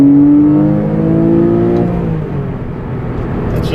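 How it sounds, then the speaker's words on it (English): A Porsche Cayman R engine revs close by, its exhaust note a loud rising harmonic wail that peaks and then settles into a lower rumble as the car pulls away. "you're not going to beat that exhaust note"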